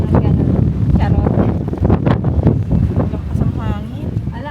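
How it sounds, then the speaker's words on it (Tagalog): Strong wind roars and buffets the microphone continuously, with a voice talking underneath the gusts, outdoors in Malta. "Lakas ang hangin."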